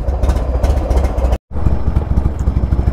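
A Buell XB motorcycle engine idles while still warming up after a short ride, a steady close rumble with uneven pulsing, briefly cut off by a gap of silence midway.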